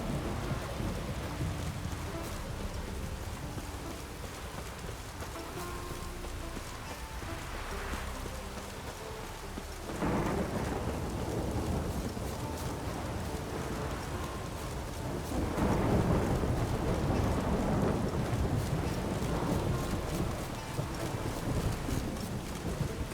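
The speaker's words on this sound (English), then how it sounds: "A storm, damn it." Steady heavy rain from a thunderstorm in The Witcher 3, with rumbling thunder swelling at about ten seconds and again near fifteen seconds over a continuous wash of downpour.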